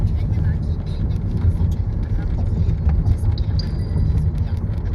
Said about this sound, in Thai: รถสิบล้อครับ น่าจะประมาณสัก ห้าสิบหกสิบคันนะครับ วิ่งไปวิ่งมาอยู่ตรงนี้นะครับ